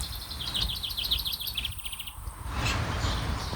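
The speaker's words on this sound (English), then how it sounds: "Little sparrow." A small bird, a sparrow, chirps in a series of quick high notes in wet, rainy outdoor surroundings in New Zealand, fairly faint against steady background noise, with a brighter call near the end.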